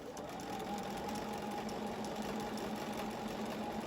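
Sewing machine stitching steadily along the edge of a quilt, a continuous close mechanical whirr and hum with no pauses and no talking.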